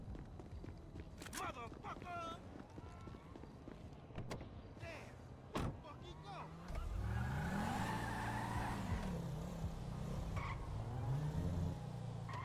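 A car in GTA V, its engine revving and droning up close in the second half with rising and falling pitch and some tire noise, preceded by radio-style voices and scattered game sounds.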